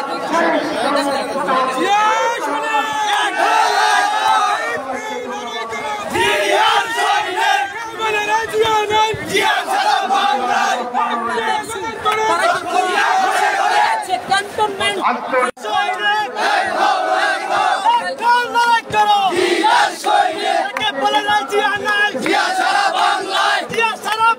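A dense crowd at a BNP rally chants and shouts slogans together, loud and continuous with a rising and falling rhythm of massed voices and cheering, and no break in the noise.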